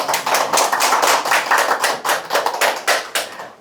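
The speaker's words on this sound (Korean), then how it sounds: "박수 한번 다시 크게 한번" A small audience at a Korean book launch talk claps briskly and steadily, close, loud and uneven, with no voices.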